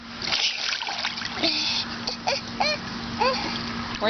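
A small child splashing in a swimming pool, a soft burst of water churn followed by light sloshing and dribbling, with an adult voice and the child's chatter over it.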